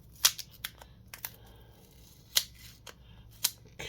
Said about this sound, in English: Just get the painter's tape off here.